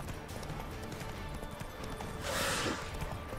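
Horse hooves clip-clopping at speed in The Witcher 3 video game, a steady run of hoofbeats under a dense game soundscape, with a louder burst of noise near the end.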